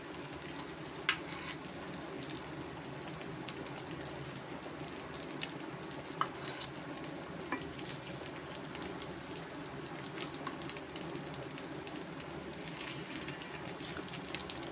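Eggs fry in hot oil for an egg curry, giving a quiet, constant sizzle and crackle with a few small pops scattered through it.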